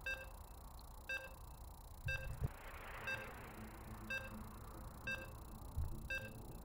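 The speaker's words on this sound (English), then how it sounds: "As you can hear the beeps" Short electronic video game loading beeps repeat about once a second, clear and steady over a low background hum.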